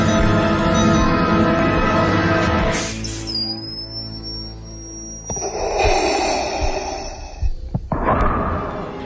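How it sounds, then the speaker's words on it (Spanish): Darth Vader's mechanical breathing effect, made by a sound engineer breathing through a snorkel; a hissing, airy breath swells in the second half after a stretch of tonal music and a thin rising whistle. "Decidieron entonces añadir el sonido de la respiración, que fue creado por un ingeniero de sonido respirando a través de un snorkel."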